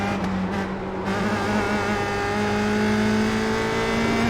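A USF 2000 open-wheel race car in the iRacing sim at the Charlotte Roval, its engine droning steadily at high revs with a held, slowly rising tone and no voices.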